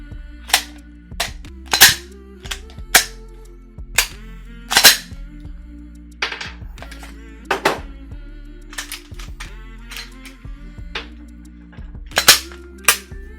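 Pistol shots ring out at a shooting range in quick control pairs and short bursts, sharp loud cracks with ringing tails, spread across the stretch with brief pauses between strings of fire.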